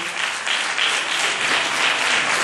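A theatre audience in a cinema-theatre in Calimera applauds author Vito Bergamo, a thick, continuous wave of clapping from a full house that holds steady in volume.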